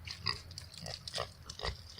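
Pigs grunt in short, irregular bursts on a farm in snowy weather, several snorts close by with low rumbling grunts in between and no talk over them.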